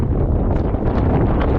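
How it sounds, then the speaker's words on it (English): Strong wind buffets the microphone in a continuous low roar, loud and unbroken, with no voices. "Ooh, it's windy today."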